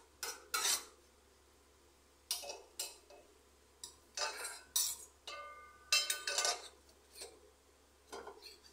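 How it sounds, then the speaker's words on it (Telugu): A spoon stirring a mixture in a pot, giving scattered metallic scrapes and clinks in irregular bursts, close but fairly soft against a low steady hum, with no talking. "చూస్తున్నాను కదా నేను ఇక్కడ ఎలా కలుపుతున్నాను"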